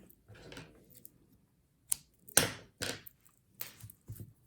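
Scissors snip crochet yarn in a few short, quiet, separate cuts close by, with small handling noises between them.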